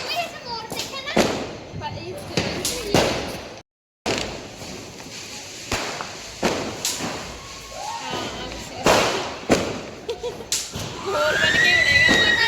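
Diwali firecrackers going off during a festive evening, several sharp bangs and thuds at irregular intervals, with children shouting and playing and people talking throughout.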